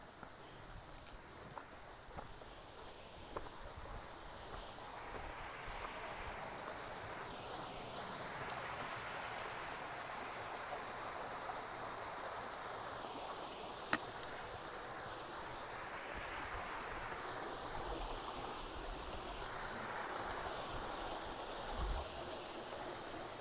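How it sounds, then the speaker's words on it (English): Small stream on the Appalachian Trail flowing in a soft, steady wash of water, fairly faint and unbroken, with light wind and occasional footstep-like rustles and no talking. "It's a pretty little stream."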